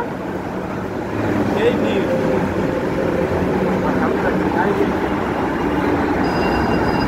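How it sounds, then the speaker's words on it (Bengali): A metro train pulls into a station, a steady broadband rumble of wheels and motors that grows louder after the first second and holds, with a couple of faint squeals riding above it. "এই যে ট্রেন ঢুকে গেছে আমাদের, আমরা এখন বগিতে উঠবো। মেট্রো ঢুকে গেল।"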